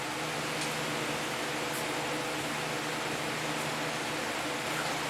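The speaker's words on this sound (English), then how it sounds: "is the fan running, blowing the heat off the barrel." A steady, loud whoosh of a fan blowing heat off a barrel stove, constant and unbroken throughout with no voices.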